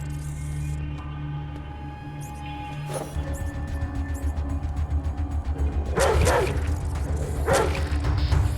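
A dog companion in the video game Atom RPG barks repeatedly in a quick rhythmic run, close and clear over a low mechanical hum, with a louder burst of barking near the end.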